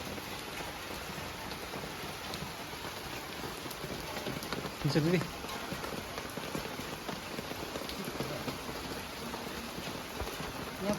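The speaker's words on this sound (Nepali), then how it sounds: "पानी पर्यो" Rain falls steadily in a dense, even hiss of drops on surfaces, continuous and fairly close, with a brief voice speaking midway.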